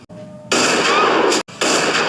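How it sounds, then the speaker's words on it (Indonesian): A gunshot that kills a deer: a loud, sharp burst of gunfire whose ringing noise fills the short stretch, cut off once by a brief gap and then returning. "Kedatangan mereka disambut tembakan dan matinya seekor rusa."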